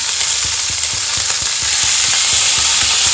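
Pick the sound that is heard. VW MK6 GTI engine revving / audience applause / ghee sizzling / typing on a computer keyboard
ghee sizzling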